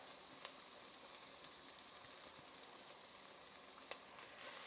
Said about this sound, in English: I'm going to go ahead and add in some minced garlic.